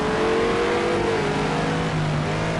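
A Renault GT3 race car in Project Cars 2, racing at Brno in the wet, roars loudly and continuously, its engine pitch sliding down and then holding steady with no talk over it.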